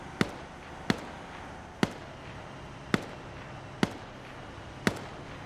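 Gunfire in a video game as players fire back, six sharp isolated shots spaced roughly a second apart over a low murmuring background.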